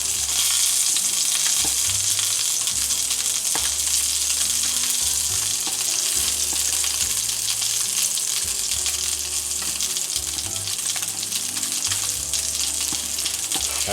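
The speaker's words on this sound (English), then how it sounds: "and we let it fry. In the medium heat." Teriyaki salmon fries on medium heat in a lidded pan on a hot plate, giving a continuous loud sizzle and crackle with a steady hiss and no talk.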